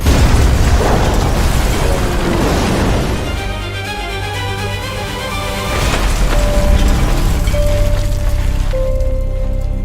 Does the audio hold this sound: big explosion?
yes